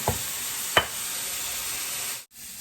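Mushrooms sizzling and hissing in a frying pan, a steady close fry broken by a couple of short scraping stirs, then cut off abruptly near the end.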